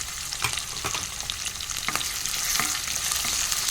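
Spices sizzle and crackle in hot oil in a pan, with steady bright frying hiss and scattered sharp pops and stirring scrapes, close and fairly quiet, with no talking.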